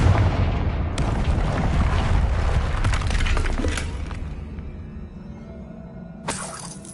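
A Confringo explosive spell blasts in the video game Hogwarts Legacy, a heavy boom with shattering, breaking debris that rumbles and fades out, followed by a quieter later burst.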